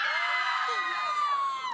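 Girls shriek and yell like excited fans, several high voices screaming at once with rising and falling wails, loud and close, during a rehearsal at a singing talent show.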